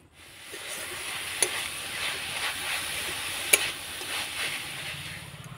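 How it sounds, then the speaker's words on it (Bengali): Jaggery filling for momo pitha stirred in a pan, a steady soft scrape and sizzle with a couple of sharper clinks from the spoon, close and continuous with no talk. "তো এবার আমি নাড়াচাড়া করে পুরটা তৈরি করে নেব।"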